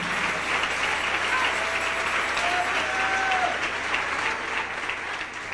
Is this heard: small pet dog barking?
no